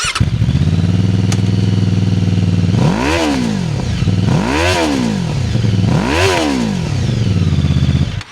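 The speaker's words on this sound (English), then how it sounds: "we can listen to these pipes and hear exactly how they sound" A QJMOTOR SRV600V V-twin motorcycle's exhaust pipes heard while riding, a loud close engine drone that rises and falls through three revving surges as it accelerates and shifts, with no talking.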